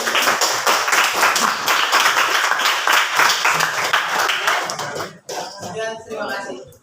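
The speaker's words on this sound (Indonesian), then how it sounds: "Kita beri aplaus dulu." Applause from a classroom audience for a student group, steady close clapping for about five seconds that thins out, followed by a brief spoken voice.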